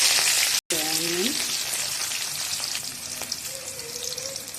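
Green chillies and onion go into hot oil with mustard seeds, giving a steady sizzling hiss after a brief break, with a few faint tonal whines over the frying.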